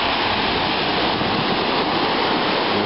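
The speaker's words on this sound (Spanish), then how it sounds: "Playa de un oleaje suave, playa profunda" Gentle surf on Playa Guarapo, a deep beach with soft sand near Cariaco, heard as a steady, loud, unbroken wash of breaking water with no voices.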